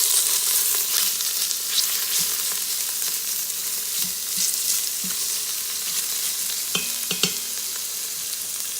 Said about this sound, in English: we're just going to let those saute a little bit